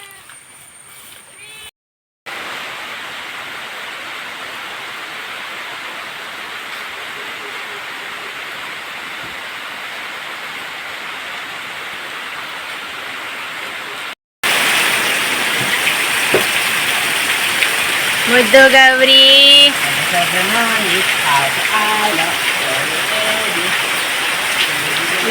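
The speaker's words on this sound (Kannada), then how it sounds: "ಮಳೆ ಬರ್ತಾ ಉಂಟು ಅಂತ. ಜೋರು ಮಳೆ." Heavy rain pours down in a dense, loud, continuous hiss, unbroken apart from two short gaps, with a cat's meows and a few spoken words near the end.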